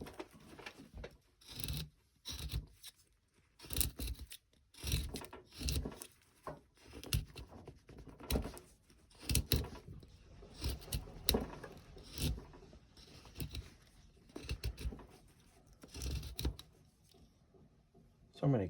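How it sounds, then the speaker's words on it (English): A number 7, 25 mm gouge roughs out a carved wooden Santa, making repeated scraping, rasping cuts in irregular strokes. Close and moderately quiet, with soft chips and handling noise between strokes. "I'm going to take this back in a little bit with this gouge"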